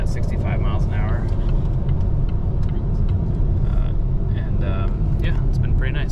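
An electric car cruises at highway speed in the mountains while passing a truck, giving a constant loud road and tyre rumble under a person talking throughout.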